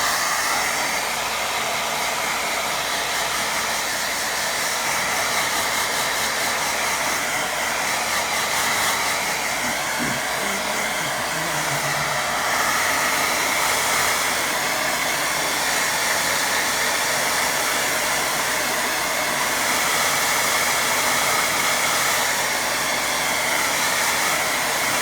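A hair dryer blows steadily on a watercolour painting of a windmill, a continuous loud whooshing hiss held at one level throughout, close by with no talking.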